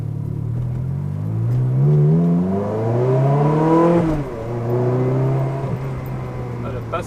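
A BMW M3 revs hard through gear shifts while driving through a village, its engine note climbing in steady sweeps and dropping sharply at each change, loud and close, with a voice talking over the engine.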